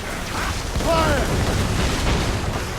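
A ship's mortar volley booms in an Assassin's Creed Rogue naval battle, a loud sustained rumble with creaking timbers and a voice cutting through the blast.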